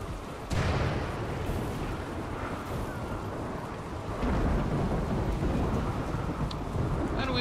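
Thunderstorm rain in the video game RimWorld: a loud, steady rush of rain with deep rolling thunder swelling near the start and again midway, no voices.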